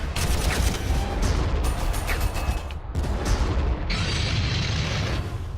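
Heavy cannon fire from a Gargant war machine and a Kill Cannon in a Warhammer battle game, a dense continuous barrage of booms and blasts filling the whole stretch at steady loudness with no voices.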